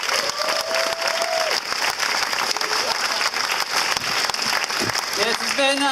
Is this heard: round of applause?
yes